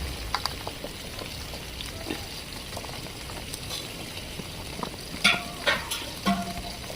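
Carrot pieces sizzle steadily in hot oil in a home kitchen, with a soft continuous fry and a few sharp spoon clinks and scrapes near the end as they are stirred.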